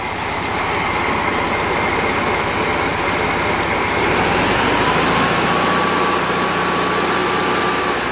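A junk VW engine running loose on an engine stand, shaking more than when mounted to a transmission, makes a loud, continuous, steady drone heard close up.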